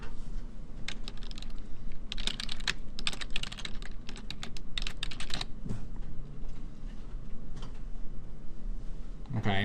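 Fast, steady clatter of keys on a computer keyboard as a project name is typed, close and continuous over a low hum, with a person talking over the typing.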